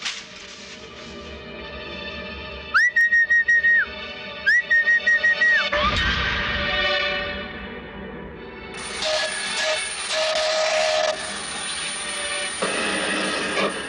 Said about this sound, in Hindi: रात के सन्नाटे में रेल की सीटी कितनी अच्छी लगती थी।